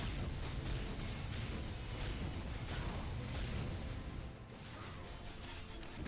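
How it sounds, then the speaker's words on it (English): Repeated booming explosions from a Magus class's attacks in the action MMORPG MU Legend, dense and loud with continuous crashing bursts layered over game noise, no voice audible. "Take my explosions!"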